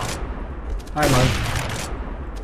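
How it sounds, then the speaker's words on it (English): Rapid gunfire burst from an oversized 'mega gun' in Counter-Strike: Global Offensive, a loud dense volley lasting about a second amid faint background game noise. "This is the mega gun."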